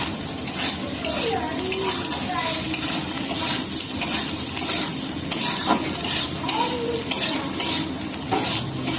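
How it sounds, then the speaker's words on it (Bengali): Potato pieces seasoned with salt and turmeric powder are stirred in a frying pan, a steady sizzle under repeated scraping of a spatula against the metal and occasional clinks, with no talking. "দিয়ে দেবো হলুদ গুঁড়া এবার দিয়ে ভালো করে নাড়াচাড়া করে নেবো"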